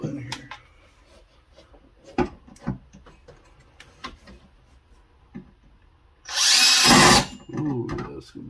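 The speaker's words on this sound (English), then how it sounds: "Let's see if I can fit this giant drill in here." After scattered clicks and handling noises, a large power drill whirs loudly for about a second, stops, then runs again more softly, drilling a car's firewall.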